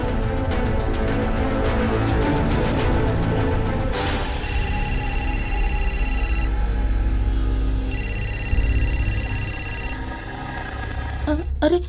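A telephone rings in two long electronic bursts with a gap between, heard under constant background noise and murmured speech.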